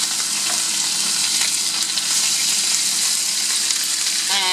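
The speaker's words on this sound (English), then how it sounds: "stir fry it right in that same oil where I had cooked the tilapia in" Garden bok choy stir frying in oil left from cooking tilapia gives off a loud, steady, crackling sizzle throughout, with no talking.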